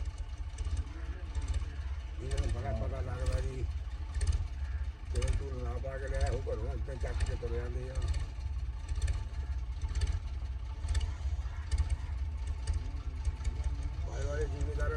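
A steady low tractor engine drone runs throughout, with people talking over it the whole time.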